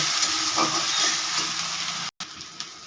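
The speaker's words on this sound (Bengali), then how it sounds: "গ্রেটারে গ্রেট করে রাখা পেঁয়াজ, দিয়ে একটু কষিয়ে নেব।" Grated onion frying in oil, a steady dense sizzle with faint stirring scrapes that breaks off briefly near the end and then resumes more quietly.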